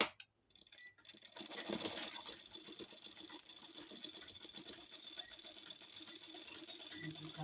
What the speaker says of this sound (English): So I'm also sewing mine now.